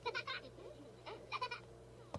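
A farm animal in The Sims 4 life-simulation game gives several short bleating calls in separate bursts, fairly close, followed by a sharp click at the end.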